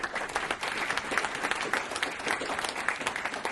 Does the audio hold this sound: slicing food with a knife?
no